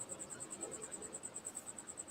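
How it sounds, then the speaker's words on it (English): A cricket chirps indoors in a fast, even string of high, thin pulses that repeat without a break. The chirping is faint and steady, with no other sound over it. "why don't you go find that cricket and get rid of it?"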